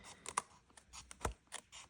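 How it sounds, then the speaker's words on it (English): Scissors snip through paper during a watercolor mixed-media floral craft session, several crisp close cuts in quick irregular succession, one sharper snip standing out, with no talking. "I'll just use my scissors"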